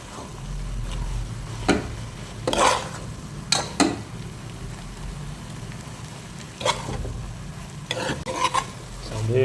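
Coriander powder being stirred into a sizzling frying-pan mixture for a chicken dish, with a steady low sizzle under intermittent scraping and clinking strokes of a spoon against the pan, close by.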